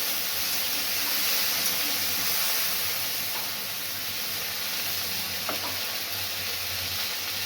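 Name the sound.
cauliflower frying in oil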